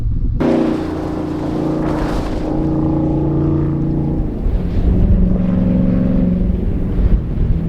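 A Jeep Wrangler 392 AEV V8 revs hard off-road, its loud, steady engine drone shifting pitch as it upshifts, with the rumble continuing close by and no talking.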